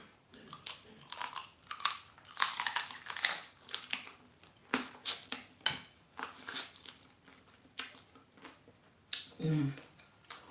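Wet lip smacking and chewing while eating okra soup and fufu, close to the mic in soft irregular bursts, with occasional murmured sounds between mouthfuls.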